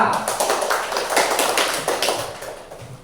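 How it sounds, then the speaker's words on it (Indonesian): A classroom of students claps for a classmate, a fairly close, uneven burst of hand claps with distinct individual slaps that gradually fade over about three seconds. "beri tepuk tangan untuk Eza."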